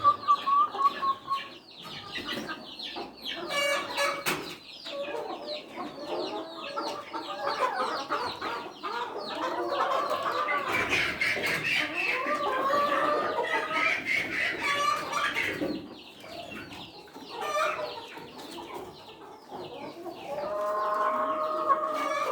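Chickens cluck and squawk continuously in a busy flock, close by, with several overlapping calls and occasional louder cackles throughout.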